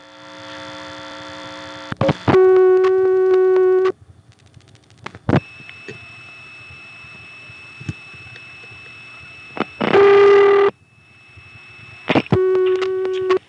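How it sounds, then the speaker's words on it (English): Dial tone on a 1970s NX2 crossbar telephone exchange in Hague, Virginia: loud steady tones that start and stop in several bursts, separated by quieter stretches of line hum and clicks. "Then if you flash, you get back to dial tone."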